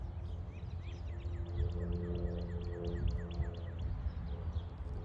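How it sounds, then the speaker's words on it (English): Several small birds chirp in quick repeated tweets over a low outdoor rumble, steady and moderately faint. "Hear the birds chirping."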